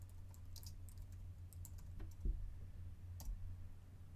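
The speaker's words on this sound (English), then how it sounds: "We're going to type in circle." Someone types on a computer keyboard at close range. Soft, scattered key clicks come in quick bursts with brief pauses between them, heard alone over a low background hum.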